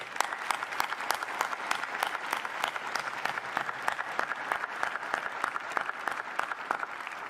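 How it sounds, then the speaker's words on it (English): Large outdoor university commencement crowd applauding the staff, continuous distant clapping with crisp individual claps standing out, moderately quiet and steady throughout. "a round of applause for this amazing team."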